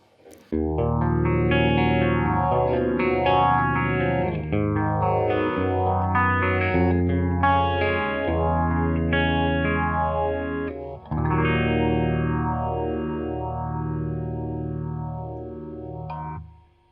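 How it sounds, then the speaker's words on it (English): Electric guitar playing sustained chords through a Boss PH-1 phaser pedal, with a slow sweeping whoosh rising and falling repeatedly; loud, steady, no voices. "So classic phaser sounds very much in the vein of a Phase 90."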